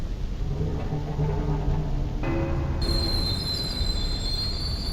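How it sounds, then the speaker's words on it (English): A video game train rumbles and slows, its brakes and wheels squealing in high sustained tones that rise partway through over a low steady drone. "It's working. Train is slowing down."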